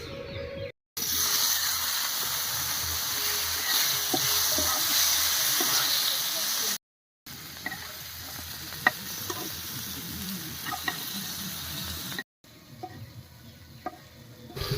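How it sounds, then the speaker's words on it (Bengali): Split tomatoes fry in mustard oil in a pan after eggs were fried, giving a close sizzling hiss with occasional stirring clicks, broken by brief cuts and thinning toward the end. "এই তেলের মধ্যেই চিড়ে রাখা টমেটো ভেজে নেব।"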